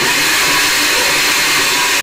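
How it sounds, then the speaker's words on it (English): A blender whirs loudly and steadily as it mixes whole milk, sugar and vanilla extract, a continuous dense roar that cuts off abruptly at the end. "Give it a whirl in your blender."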